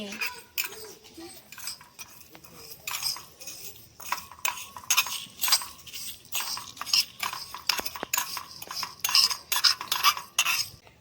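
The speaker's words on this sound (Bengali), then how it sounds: "এটাকে কিছুক্ষণের জন্য নেড়ে নিচ্ছি এটাকে একটু ভাজা ভাজা করে নিতে হবে" Dry red chillies and whole spices are stirred in a small pan in a miniature kitchen, giving a rhythmic run of metallic scrapes, clinks and taps, close and distinct, with brief pauses.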